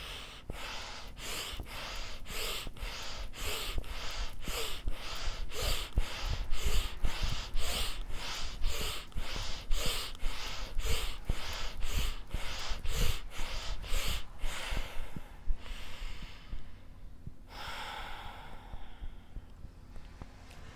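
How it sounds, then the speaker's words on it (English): Big deep breaths during yoga practice: a rapid, rhythmic run of loud forceful exhalations, close and steady for about fifteen seconds, followed by two slower, longer breaths. "Big deep breath."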